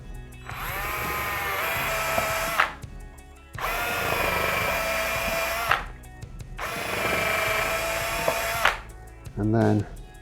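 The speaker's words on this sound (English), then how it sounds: "I'm just going to open these out with standard drill bits" A power drill whines steadily through three long bursts, opening out holes with standard drill bits on a Firebird guitar build, separated by brief pauses, with a short speaking voice near the end.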